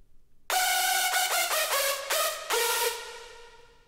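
Hardstyle lead synth, a heavily detuned saw wave built in FL Studio, playing a bright, loud melodic phrase of short chopped notes followed by a longer held note that fades out, with no voices.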